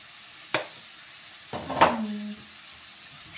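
Food stirred in a sizzling pan in a home kitchen, with two brief utensil scrapes against the pan over a low, steady sizzle, and no talk.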